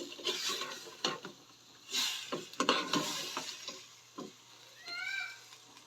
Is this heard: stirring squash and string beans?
yes